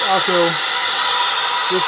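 Steam wand of a Breville BES900XL espresso machine hissing steadily, a broad loud rushing hiss throughout, with a person talking briefly at the start and end.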